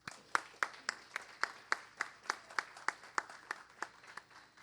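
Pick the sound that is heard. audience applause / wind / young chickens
audience applause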